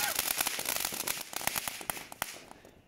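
Fireworks crackle outdoors on New Year's night, a dense run of sharp, irregular pops and bangs at moderate distance that gradually thin out and fade toward the end.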